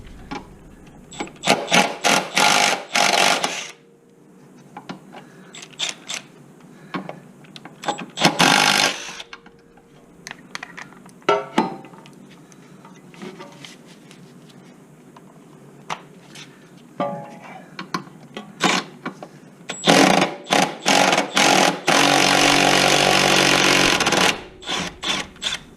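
Hand tools working a 10mm nut on the front strut of a 2007-2011 Honda Accord, heard as bursts of fast ratcheting and scraping metal clicks separated by pauses, close and fairly loud.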